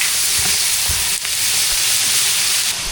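Onions with ginger garlic paste fry in a hot pan for a vegetable biryani, giving a loud, steady close-up sizzle and hiss with occasional soft scrapes of stirring.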